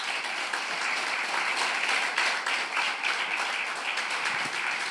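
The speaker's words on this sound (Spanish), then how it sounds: "Denle un aplauso al Señor." Congregation applauding in a church service, steady clapping that fills the whole stretch at moderate, even level with no break, heard at some distance.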